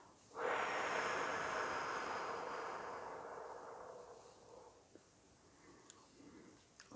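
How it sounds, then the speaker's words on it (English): A single long, breathy exhale, close and soft, rising quickly then slowly fading over several seconds into quiet with a few small clicks. "we exhale it out into the universe as we expel our breath"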